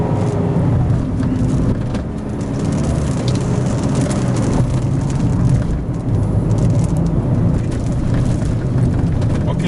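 Perodua car accelerating hard on a test drive, a loud steady cabin roar of engine and road noise filling the whole stretch with no talk over it.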